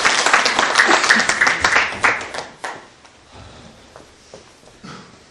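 A debate audience claps briefly for a candidate, a dense burst of applause that thins into a few scattered claps and fades within a few seconds.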